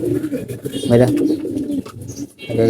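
Pigeons cooing close by in a loft, a continuous layered murmur of low throaty coos from several birds, loud and steady.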